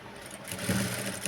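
Sewing machine stitching a blouse during tailoring work, a quiet steady low hum with a brief stronger burst midway, fairly faint and running alone without talk.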